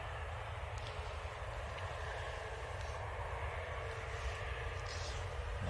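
A six-year-old Boeing 787-9 Dreamliner at Manchester Airport gives a steady, distant engine rumble and hiss that hold level throughout, with no voices.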